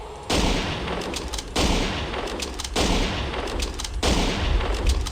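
Four heavy rifle shots from a hunting rifle in a dinosaur-hunting video game, fired about once every second and a quarter, each booming loudly and trailing into a long rumbling echo with no pause in between.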